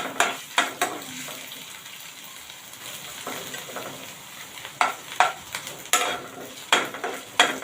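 Green chillies sauté in oil with a soft background sizzle while a utensil stirs and scrapes the pan, sharp clinks and knocks coming in irregular clusters, close and without talk.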